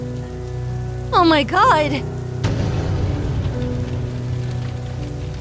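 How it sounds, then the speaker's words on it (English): Steady rain falling in the Fortnite video game, a dense continuous hiss that runs throughout under a short exclaimed voice and a sudden louder burst partway through. "I can't see a thing through all this rain!"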